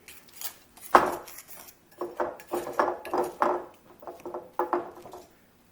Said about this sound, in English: I have gentle sweet, baking blend, mineral salt, cinnamon in here. Just stir it up.